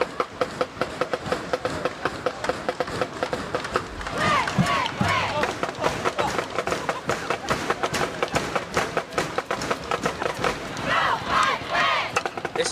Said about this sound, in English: The crowd's getting loud right now.